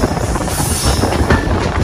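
A passenger train runs along rails in Bangladesh, on the route from Faridpur to Kalukhali. A loud, steady rumble and clatter of the wheels carries on with no talk over it.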